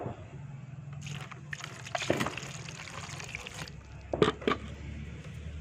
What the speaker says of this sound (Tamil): இது வந்து நம்ம இப்போ வந்து தண்ணி ஊற்றி ஊற வைக்க போகிறோம்.